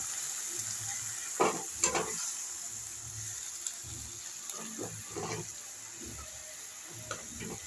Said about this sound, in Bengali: এবার দেখ, এর মধ্যে জল দিয়ে দিল গাইস।